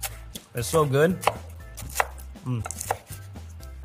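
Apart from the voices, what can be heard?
chopping bacon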